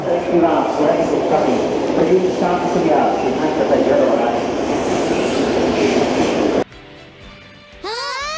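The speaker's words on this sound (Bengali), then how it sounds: "ये तो बुलेट ट्रेन है।" A Japanese bullet train rushes past close by, a loud steady roar of wheels and wind that cuts off abruptly; people talk over it, and a rising whine follows.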